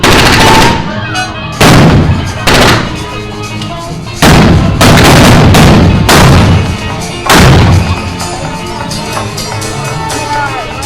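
Loud blank gunshots crack in irregular bursts during a Bonnie and Clyde shootout reenactment at a festival in Gibsland, Louisiana, with crowd noise and a voice in the gaps between shots.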